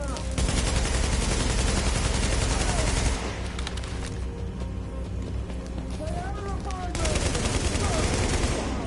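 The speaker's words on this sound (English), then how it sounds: "So, that shooting, that was you, right?" Gunfire from The Division 2 rattles in dense automatic bursts that are loud and close, easing briefly in the middle before picking up again, with voices speaking over the shooting.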